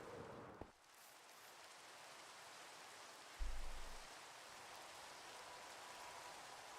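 Rain in the Minecraft video game gives a steady, faint hissing wash of drops, with a low rumble partway through, and no voices over it.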